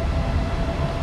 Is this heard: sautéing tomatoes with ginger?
no